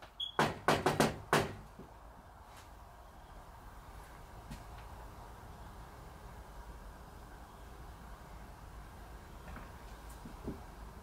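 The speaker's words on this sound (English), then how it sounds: "I'm going to do some knocks." Knuckles rap on the walls of a trailer in the woods, about five quick, loud knocks in a burst, followed by a long, quiet hiss with faint creaks.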